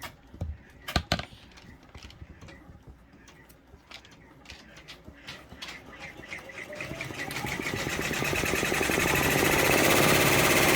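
An OESD embroidery machine stitching freestanding lace for floral pumpkins starts with a few clicks and taps, then ramps up into a fast, steady mechanical chatter that grows louder and denser toward the end.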